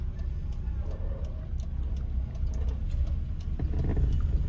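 A car rolls slowly through a narrow lane, its low engine hum steady and close, with faint ticking over the top as it creeps forward.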